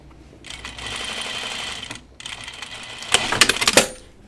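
A sewing machine stitches a quarter-inch seam on pajama bottoms in short runs, a close, rapid mechanical whir that pauses briefly midway, then ends with a burst of quicker clattering stitches.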